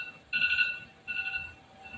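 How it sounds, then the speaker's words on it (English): A beeping alarm goes off in two short electronic tonal bursts, bright and steady, heard alone over a faint low background while someone sleeps. "we was waiting for a fucking alarm"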